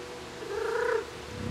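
A cat in the video game Stray gives one drawn-out, close meow, about half a second long, over quiet game background with no talking.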